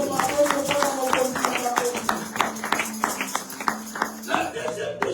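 A church congregation claps in a lively rhythmic pattern during a pastor's sermon, sharp hand claps landing in quick repeated beats with voices mixed underneath, fairly close and loud.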